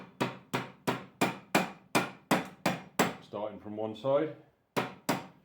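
A steady series of sharp metallic hammer taps on flat belt lacing at a belt-driven mill, about one every half second, briefly interrupted by a spoken phrase before two more taps.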